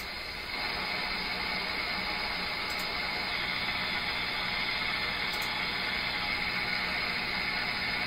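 Dense hissing shortwave radio static on an SDR receiver fills the clip, a constant broadband rush with faint whining tones and buzzing texture, no voices or music coming through.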